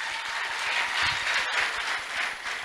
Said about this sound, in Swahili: Na tuwapigie makofi. Let's appreciate them.